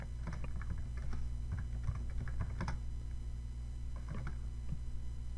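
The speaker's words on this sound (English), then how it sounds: "I'm going to start typing." Clicky bursts of computer keyboard typing in a quiet room, uneven rhythm with short pauses, close and fairly soft over a steady low hum.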